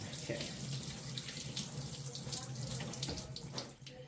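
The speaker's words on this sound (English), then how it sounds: "I guess I'll rinse it a little bit, so let me do that real quick" Tap water runs into a kitchen sink while chicken giblets and neck are rinsed, a steady close splashing stream with small spatters that eases slightly at the end.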